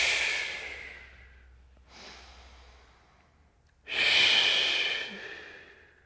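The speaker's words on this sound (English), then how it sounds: "Take a big breath in as you exhale." Deep breaths during a weightlifting workout's shoulder stretch: a long exhale, a brief softer breath, then a strong close exhale, each airy and unhurried, with no talk.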